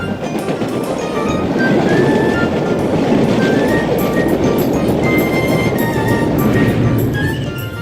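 A train passes at a railway station with a loud, sustained rolling roar and faint rhythmic rail clatter, steady throughout and no clear talking.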